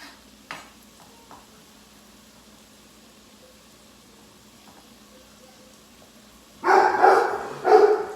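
A few short dog barks burst out near the end after several seconds of quiet room tone, loud and close, in two quick clusters.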